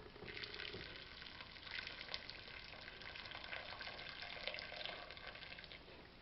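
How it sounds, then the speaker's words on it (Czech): Boiling water pours from a kettle into a cooking pot on a hotplate, a quiet, steady splashing gurgle that lasts several seconds without any voices. "Zapnu plotinku pod hrncem a zaleju vařící vodou z konve."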